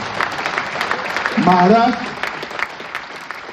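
An audience claps during a speech by a politician at the Maharashtra Chambers centenary event, a short burst of applause that swells briefly under and around the amplified Hindi speech.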